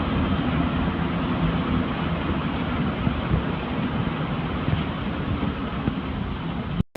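Inside a moving intercity passenger bus in Bangladesh, the engine gives a steady, loud droning rumble with road roar, constant and unbroken until an abrupt cutoff at the end, with no talking.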